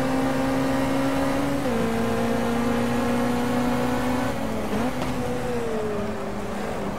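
Lotus Cortina race car in a racing video game at the Teretonga circuit, its engine droning loud and steady throughout with small pitch dips at gear changes, no talk.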